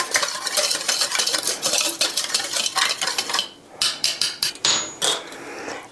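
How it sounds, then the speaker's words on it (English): Powdered protein ice cream mix whisked briskly in a bowl for a keto dessert, with fast rhythmic metallic tapping and scraping, close and loud, pausing briefly before resuming in quicker bursts. "Then I'm just gonna whisk this up."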